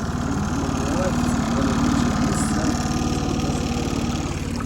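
An outboard boat motor running on the autumn Oril river, a steady close droning chug with fast regular pulsing, loud and continuous without a break.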